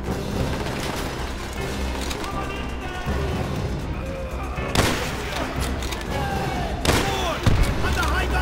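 A grenade blast and gunfire in Call of Duty: World at War's Russian campaign: a continuous crackle of battle noise broken by two heavy booming explosions, with voices over the combat.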